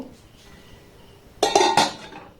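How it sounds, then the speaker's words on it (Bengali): A metal pot set down onto a stand inside a pan over a gas flame for stovetop cake baking, giving a few close, sharp metallic clanks and clinks after a quiet lead-in. "এবার এই পাত্রটাকে এখানে বসিয়ে দেব।"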